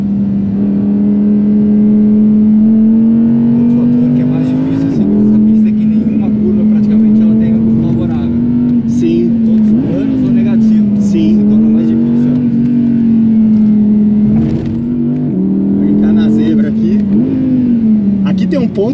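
An Audi RS 6 wagon with a 600 hp engine accelerates hard, its loud engine drone rising and falling through gear changes for the whole stretch, heard from inside the car with a voice talking over it.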